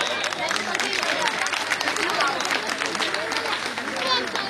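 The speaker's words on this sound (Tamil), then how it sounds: "உங்கள் கரகோஷங்களுக்கு மத்தியில்" Audience applause and crowd noise at a Pongal festival stage event held by a Tamil association in Thane, a dense steady wash of clapping mixed with murmuring voices throughout.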